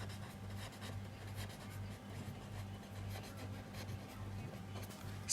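Pen or marker writing on a board during an accounts lesson, a soft, steady scratchy stroking with short pauses between letters, faint and close, no talking.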